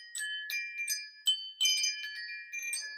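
A chime-tower-style wind chime rings out in clear, sparse metallic tones, several separate strikes ringing and overlapping over a few seconds, close and alone.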